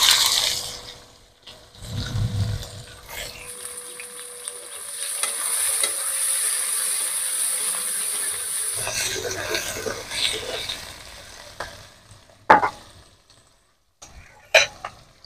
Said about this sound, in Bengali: এবারে পেঁয়াজের সাথে আলুটাকে আমি কিছুক্ষণের মতো কষিয়ে নেব।